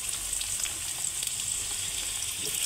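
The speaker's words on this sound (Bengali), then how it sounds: "এখন এই যে কেটে রাখা আলুগুলো দিয়ে দিলাম। আলুগুলো ভেজে উঠিয়ে রাখতে হবে" Cut potatoes fry in mustard oil with nigella seeds, giving a continuous close hiss and crackle of sizzling oil that holds steady throughout with no voices.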